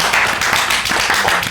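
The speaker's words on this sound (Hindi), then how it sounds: "तालियां!" An audience clapping, a dense loud burst of many hands applauding in a brief continuous wash with no talking.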